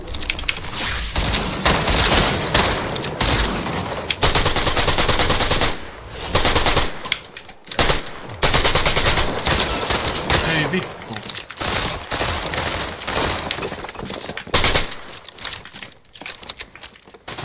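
Heavy gunfire in a video game, long rapid bursts of automatic shots broken by short gaps, loud and close, with occasional voices mixed in.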